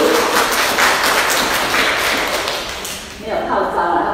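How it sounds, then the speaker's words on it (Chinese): An audience claps in dense, sustained applause that fills the room and briefly dips near the end before picking up again. "来，我们掌声热烈欢迎倩玲。"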